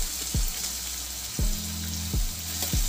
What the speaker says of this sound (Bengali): আর পরিমাণ বুঝে নুন দিয়ে সবকিছু ভালো করে ভেজে নিতে হবে।